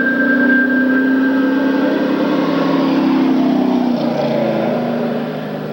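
An old Cutlass race car idles along on a parade lap at a short-track race night, with a steady engine drone and a faint whine. The drone stays level and fairly close, then eases off slightly near the end.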